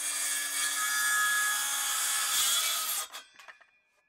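A saw cuts through the end of a timber rafter for a pergola, a loud, steady rasping buzz lasting about three seconds, then breaking off into a few short, fading scrapes and knocks.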